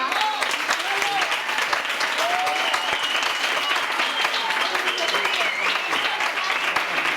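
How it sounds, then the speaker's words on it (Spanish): Audience applause for painter María Luisa at a school cultural-week talk, a dense, steady wash of clapping filling the room from start to finish without pause. "Vamos a darle un aplauso a María Luisa."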